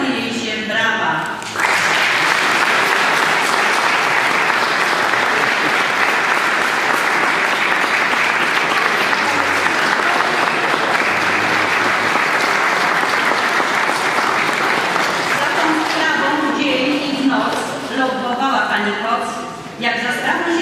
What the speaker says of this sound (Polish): lecz należą jej się brawa